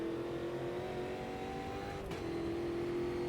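A race car engine drones steadily in the Automobilista 2 racing simulator, faint and distant, holding a sustained tone that dips briefly during a gear change before settling again.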